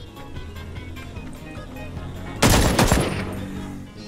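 Burst of automatic gunfire with heavy recoil in the video game Ring of Elysium, a loud dense volley of rapid shots erupting after a quieter stretch of game ambience and fading after about a second and a half.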